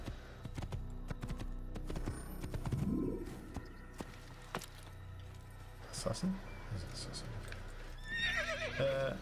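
A horse in the Assassin's Creed video game gives a rising whinny, with hoofbeats and game ambience around it and someone talking over the top.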